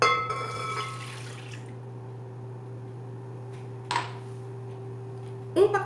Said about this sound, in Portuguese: vou adicionar aqui na vasilha 150 ml de água morna e 150 ml de leite morno